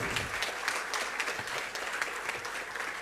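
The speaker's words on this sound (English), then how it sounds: "You are still clapping like hungry people" A large audience claps steadily throughout at a diplomatic-relations celebration, with dense, continuous applause and no break.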